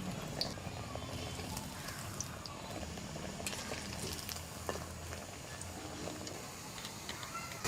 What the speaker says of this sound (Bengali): চ্যাপটা চ্যাপটা করে ভেজে নিব তেল গরম হয়ে গেছে দিয়ে দিচ্ছি